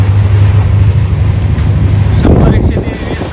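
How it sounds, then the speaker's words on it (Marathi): An Indian passenger train runs at full speed, a loud continuous low rumble with steady droning hum and rushing wind noise, close and unbroken throughout. "आता ट्रेन फुल स्पीडमध्ये"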